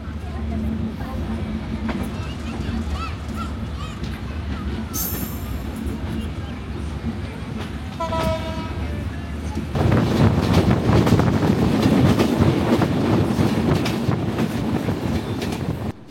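A passenger train pulls away from Uthli station on the way to Jashore, its rumble and wind noise steady, then swelling into a louder, denser rush of wheels on track, with a brief whistle-like tone midway.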